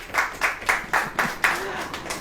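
A small audience claps in scattered, rhythmic bursts at a Christian sermon gathering, with about six distinct clap clusters at a moderate distance and no speech over them.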